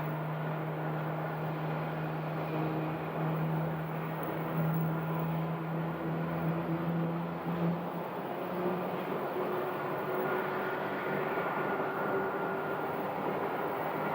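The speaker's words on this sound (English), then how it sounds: "You gotta love that nice, loud, deep sounding engine" An airliner engine at Phoenix Sky Harbor airport spools up with a deep, droning roar and steady rising tones, continuous and fairly loud over a broad rumble.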